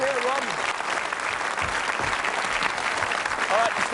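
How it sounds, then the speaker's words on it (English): Studio audience applauding a contestant on a late-1980s British TV game show, a full steady roar of clapping from the crowd with a brief electronic tone and a voice rising over it near the end. "Let's give him a nice round of applause."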